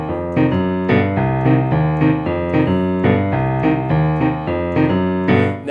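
A boogie-woogie vamp on piano, the lower secondo part of a duet, rolls along in a steady repeating bass pattern with chords stacked above, loud and continuous with no talking.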